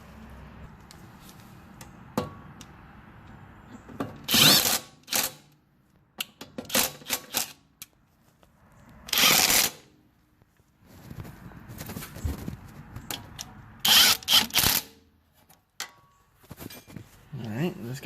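A tool works a 10mm nut during a wheel bearing replacement on a Honda Accord, giving short, sharp bursts of ratcheting clatter separated by pauses, close and fairly loud.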